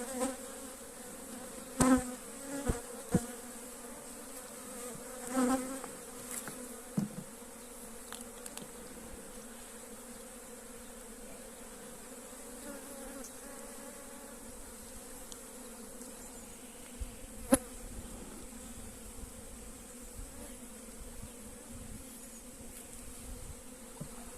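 Honeybees swarm around an open hive with frames of brood and some varroa mites, a continuous close hum of many wings with a few sharper knocks and taps early on and a brief click midway.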